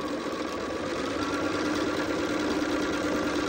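A sewing machine chain-pieces half-square triangles for a Stars and Stripes quilt block, running as one steady, unbroken motor whir at an even level with no pauses and no talking.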